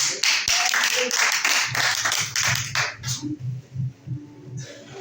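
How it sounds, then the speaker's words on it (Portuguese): A church congregation claps in praise, a fast run of sharp hand claps at first that thins to scattered claps, with a voice speaking alongside. "que as palmas louvem o Senhor"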